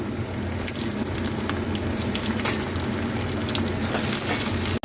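Meat sizzles in a pan with hing and garam masala, a loud continuous frying hiss with crackling spatters heard close up, with no talking over it.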